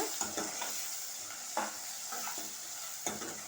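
Onions and cloves sizzle in a hot pan while a spoon stirs and scrapes through them in irregular strokes, a steady frying hiss underneath.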